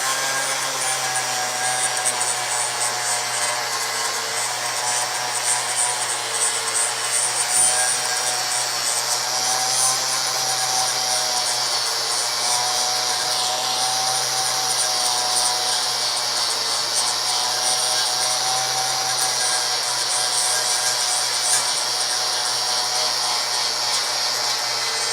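An angle grinder works down a plug weld on car body sheet metal, a steady high whine and abrasive hiss running continuously with slight swells in pitch and no talking.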